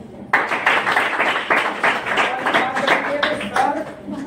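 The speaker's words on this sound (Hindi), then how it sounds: "एक तालियां हो जाए" An audience claps for a teacher, a brisk burst of many hands that starts abruptly and carries on steadily, with voices talking over it.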